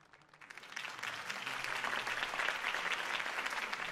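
Crowd applause at a political campaign speech in the Batman Telltale Series video game, starting light and swelling into steady, full clapping from a large audience that continues to the end.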